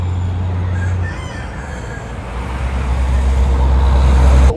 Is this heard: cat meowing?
no